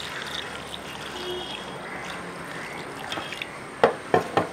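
Water is poured into a cooking pot holding cleaned Chinese potatoes (koorka) in a home kitchen, a soft steady trickle and splash running throughout, ending in a few sharper knocks of the pot.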